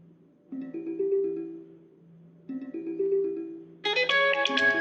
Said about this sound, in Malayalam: ഒറ്റ മിനിറ്റ്, ഒരു ഫോൺ വരുന്നുണ്ട്